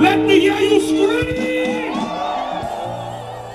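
A large crowd at a political rally screams and cheers, a loud, dense mass of whoops and shouts that stays strong and slowly eases off toward the end.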